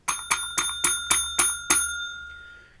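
A railway signal box block bell rings nine evenly spaced strokes, bright clear metallic dings in a quick steady rhythm, the last one left to ring out and fade.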